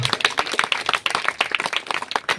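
A church congregation claps loudly and rapidly together in uneven, overlapping bursts that fill the room for a couple of seconds.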